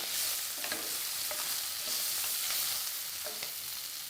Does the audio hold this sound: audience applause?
no